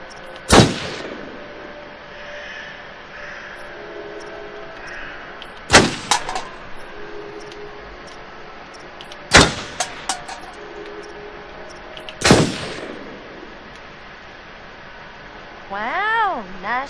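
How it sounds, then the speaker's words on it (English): Single loud gunshots ring out in the horror video game Until Dawn, four sharp blasts spaced a few seconds apart over a low ambient bed, followed by a rising wavering tone near the end. "nice shooting, Tex."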